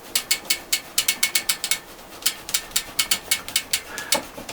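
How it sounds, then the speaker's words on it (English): A dry toothbrush scrubs a chain during maintenance, giving a quick run of about twenty crisp, scratchy bristle strokes in an uneven rhythm, close and fairly loud, with no voices. "you brush off any dust that falls in between the links"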